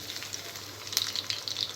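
Garlic, curry leaves and tempering seeds sizzle in hot oil for a chutney tempering, a steady close crackle with brief louder pops and no talk.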